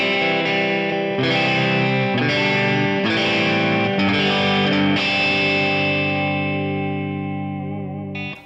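Tom Anderson electric guitar played clean with all three pickups on, strumming a few bright chords that ring out and decay over several seconds, full and shimmering with no voices.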